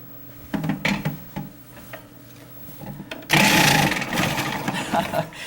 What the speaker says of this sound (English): So we're going to shred these in the food processor.